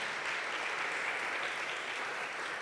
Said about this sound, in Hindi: पहली दफ़ा आई है बेटी हमारी, तो ज़ोरदार तालियों में वेलकम करें।